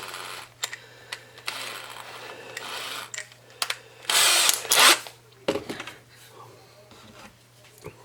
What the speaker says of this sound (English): we're going to get our screws started into the skull.